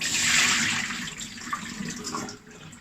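Water drains from rice soaked for two hours, pouring and gushing out in a rushing stream, strongest at first, then trickling and splashing more lightly as it tapers off.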